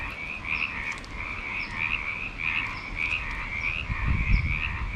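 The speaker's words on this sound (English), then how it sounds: "Is it frog mating season?" Frogs croaking loudly in mating season at an RV park, a dense chorus of repeated pulsing calls rolling continuously with a rhythmic wavering pattern, near and prominent with faint background rumble.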